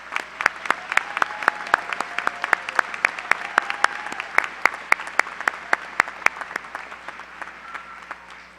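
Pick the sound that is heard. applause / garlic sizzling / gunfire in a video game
applause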